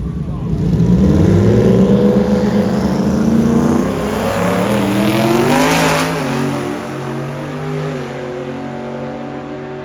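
Drag race cars launching side by side down a strip at a street car event, a loud rising engine roar with revving that builds and sweeps away, with commentators talking over it.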